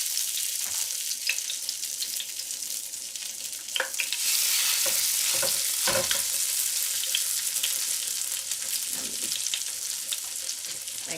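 Potato pieces sizzle and crackle steadily in a hot frying pan, with brief louder bursts as more pieces are set down, a continuous close frying hiss with no talk.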